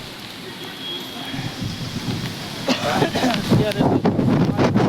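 Sudden rain and strong wind of a mini storm sweep through a garden, gusting roar and patter building louder midway, with a voice speaking briefly over it.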